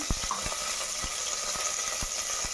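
Cumin, curry leaves and mustard seeds splutter in hot oil, a steady loud sizzle broken by sharp popping crackles at irregular intervals, close and without talk.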